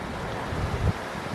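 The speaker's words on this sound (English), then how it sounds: "But no, this is not just another waterfall." Provo Falls, a waterfall along the Mirror Lake Highway in the Uinta Mountains, gives a steady broadband rush of falling water mixed with wind noise on the microphone, with no voices.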